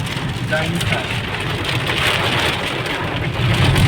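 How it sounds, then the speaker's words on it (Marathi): Heavy rain pours steadily onto surfaces, a dense continuous hiss, with a faint voice briefly underneath. "जाम पाऊस आहे पावसाचे दिवस आहेत जाम जोरात पडते"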